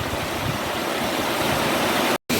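A river by a village rushes steadily with loud, continuous broadband water noise. The flow is close and unbroken apart from a brief dropout near the end.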